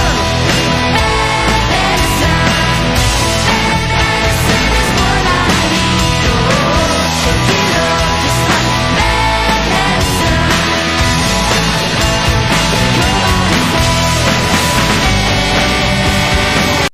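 A live band plays a song, loud and dense, with bassline, keyboard and full instrumentation filling the clip steadily throughout.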